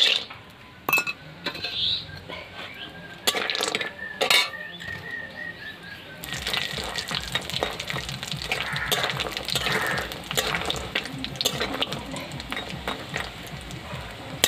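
Homemade lentil bori frying in a pan for a village-style banana stem dish: a steady hiss builds in the second half, with metal clinks and scrapes of a utensil against the pan, and no talking.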